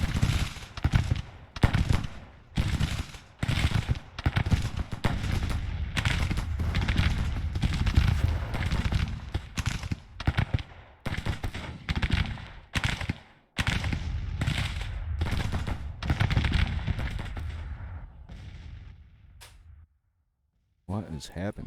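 Dense rifle and musket fire from Union troops in the Civil War strategy game Grand Tactician, heavy continuous crackling volleys that stop near the end, with someone talking throughout.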